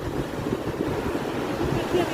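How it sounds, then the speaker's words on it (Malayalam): Big sea waves crash onto the shore in a steady, loud roar of surf, mixed with gusting wind buffeting the microphone, and a voice is faintly audible over it. "ഭയങ്കര തിരമാല, അടിപൊളിയായിട്ട് ഇത് അടിച്ചു കയറണം."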